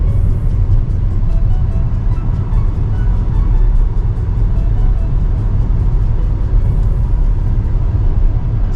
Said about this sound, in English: so 80 kmph in the Hyundai Verna now with the AC at